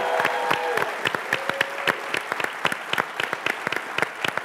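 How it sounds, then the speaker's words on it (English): An audience on a game show applauds a departing contestant, a moderate burst of many hands clapping with distinct, rapid individual claps rising out of the steady patter. "Big round of applause for James Hill for playing."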